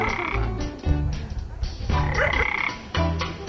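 Dense, loud frog croaking fills the scene with many overlapping rasping calls in irregular bursts, close by and continuous, at a nighttime frog-catching outing.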